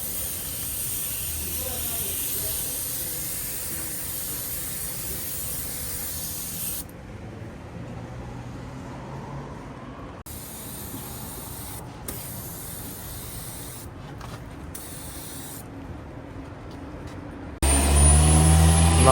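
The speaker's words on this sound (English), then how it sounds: "Now using tire shine." Tire shine sprayed onto the tires of a BMW 528i during detailing, a steady close hiss running most of the clip, broken by short pauses and bursts, ending with a louder blast of noise.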